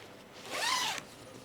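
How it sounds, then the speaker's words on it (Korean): A rain fly zipper on a four-person rooftop tent mounted on a Rexton Sports Khan is drawn closed in one smooth, close pull lasting about half a second, with no talk. "이렇게 올라가신 다음에 레인플라이 지퍼를 올려줍니다"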